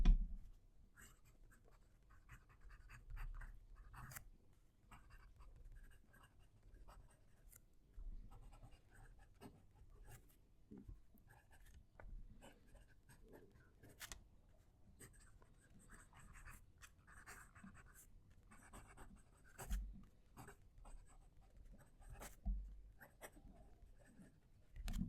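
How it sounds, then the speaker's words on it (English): Fountain pen nib scratching across paper, close to the microphone, a quiet stream of soft scratches and ticks with irregular rhythm and occasional sharper taps, no talking. "I'll move the mic so you can hear the pen write."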